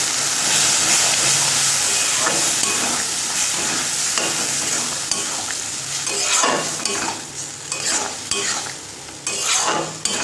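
Garlic fries in a pan for lentil dal, a loud steady sizzle and hiss, with repeated stirring clatter from a utensil scraping the pan.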